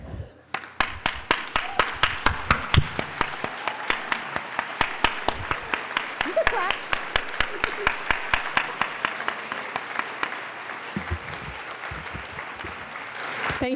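Sustained applause from an audience at a nursing candle lighting ceremony, steady clapping from many hands that fades toward the end, with a few faint voices underneath.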